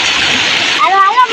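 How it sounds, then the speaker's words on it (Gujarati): River water splashes in a dense, continuous rush over a motorcycle being washed, with a voice breaking in briefly near the end. "જો ગટું મોટરસાઇકલ ધોવે હે."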